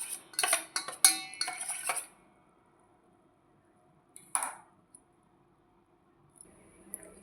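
A spoon stirs a drink mixture in a pot on the stove, giving quick clinks and scrapes against the metal for about two seconds, then near silence broken by one more short scrape and faint taps.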